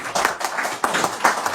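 Audience applause welcoming a guest speaker, a barrister, at a book event: a short burst of many hands clapping, fairly close and dense, with no talk over it.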